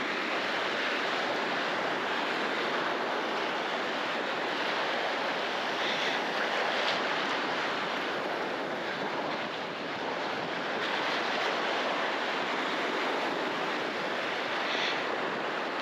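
Waves roll onto Ballywalter Beach on a windy day, a loud continuous wash of surf mixed with gusting wind buffeting the microphone, with no voices.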